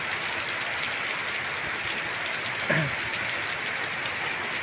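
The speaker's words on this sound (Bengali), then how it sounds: "সকাল ছটা থেকে মুসলধারা বৃষ্টি হচ্ছে সিলেটে" Torrential morning rain in Sylhet makes a dense, even roar of steady downpour with one brief thump midway and no voices.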